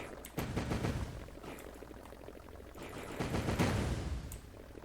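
Dense rapid gunfire from an enemy shooting at the player in a Kodu video game, a continuous crackling fusillade of game shots with louder bursts, heard alone without talk.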